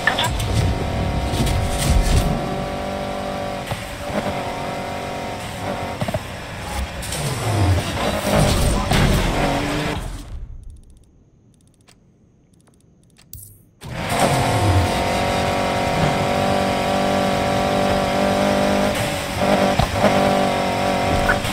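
Cars roaring at speed during a police pursuit in a racing video game, a loud sustained engine drone with shifting revs that cuts to near silence for a few seconds before the engines surge back in.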